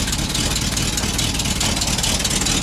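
A truck engine idles nearby with a rough, sputtering leaky exhaust that crackles and hisses steadily throughout, no speech.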